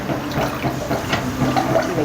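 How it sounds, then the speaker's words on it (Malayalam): Water is poured into a cooking pot in a steady, fairly loud splashing stream that runs unbroken for about two seconds. "ഒരു കപ്പിന് 2 കപ്പ് വെള്ളമാണ് ഒഴിക്കേണ്ടത്"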